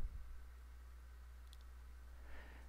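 A single faint mouse click sounds once midway through, set against a quiet, steady electrical hum in an otherwise silent room.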